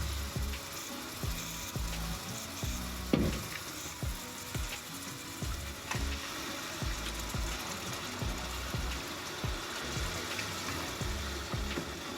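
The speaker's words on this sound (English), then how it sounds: "And then now I'm going to just drop in the meat." Pieces of mutton drop into a hot pan for a samp and beans curry and sizzle steadily, with repeated clatters and bumps of meat and utensil against the pan throughout and no talking.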